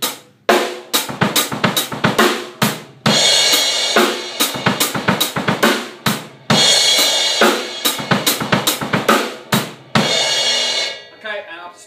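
A drum kit plays a fast triplet pattern with an extra bass drum kick on the end of four; close, loud, steady bursts of kick, snare and cymbal for about eleven seconds, no voices.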